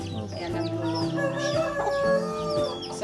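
Native hens and a crossbred Texas rooster cluck and crow together in a farmyard flock, loud and close, with overlapping calls and a steady chorus of chatter throughout.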